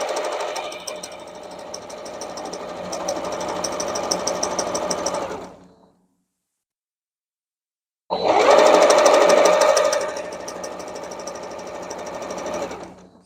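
A sewing machine stitching quilt block pieces runs in a loud, rapid, steady mechanical chatter up close, stops for about two seconds of silence, then starts again and keeps stitching.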